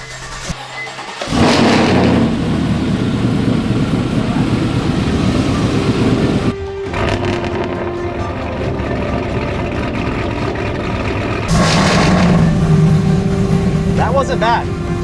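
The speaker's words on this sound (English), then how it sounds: "We're about to have our first startup ever with a Whipple supercharger." Whipple-supercharged truck engine starting for the first time, a loud close roar that catches after a second, dips, then settles into a running rumble and revs up again, with voices over it.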